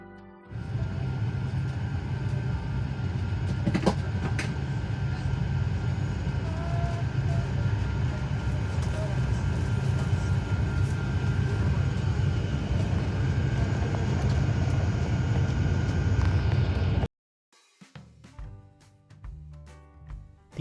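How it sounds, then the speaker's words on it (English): Heard from the upper-deck cabin, an Emirates Airbus A380 takes off from runway 02 at Christchurch: a steady, dense engine roar holds for about seventeen seconds, then cuts off abruptly. "The takeoff experience on the A380, especially from the upper deck, is as smooth as it gets."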